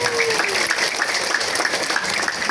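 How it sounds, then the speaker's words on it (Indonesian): Crowd applause at a community gathering for a visiting parliament member in Wana Asih, dense continuous clapping throughout, fairly loud and close, with a faint tone sliding down near the start. "Kasih tepuk tangan untuk kepedulian dari Pak Haji"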